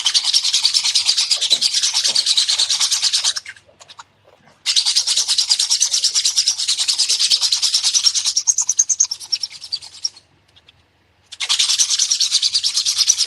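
Sandpaper rubs a lightsaber hilt in fast, rhythmic back-and-forth strokes, loud and close, in three long bursts separated by short pauses.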